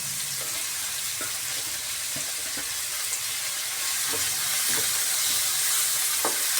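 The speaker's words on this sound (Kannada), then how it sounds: "ಇದು ಸ್ವಲ್ಪ ಎಣ್ಣೆ ಬರ್ಕೊಳ್ಳೋ ತನಕ ಫ್ರೈ ಮಾಡ್ಕೊಳ್ಳೋಣ" Two small tomatoes frying in oil in a pan give a steady sizzle and hiss, with occasional soft pops and stirring scrapes throughout, growing slightly louder toward the end. No one speaks.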